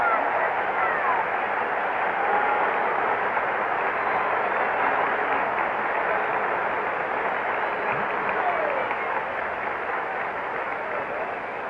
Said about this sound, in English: Listen to the reaction from the crowd as Bob Gibson comes up.